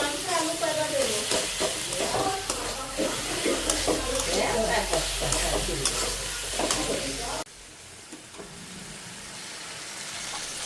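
Food sizzles and is stirred in a home kitchen pan during lunchtime cooking, with steady frying hiss and scraping clatter under intermittent talk, then the sizzle drops to a quieter hiss.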